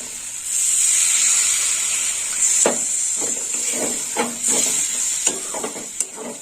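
Okra with onion and spices sizzles loudly in oil in a pan, a steady bright hiss that surges as water is poured in, with scraping stir strokes and light clatter through the rest.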